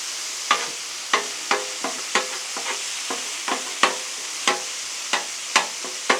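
Beef sizzles on a flat griddle, a constant frying hiss punctuated by sharp, regular scraping taps roughly every half second.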